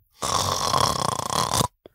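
A voice imitates a snore, one long rasping inhaled rattle lasting over a second, then a brief click afterward.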